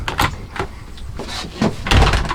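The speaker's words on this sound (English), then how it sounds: "And then we close this door," A camper van door swings shut with a couple of handling knocks and a firmer thud at the end, close and fairly loud, with no talking.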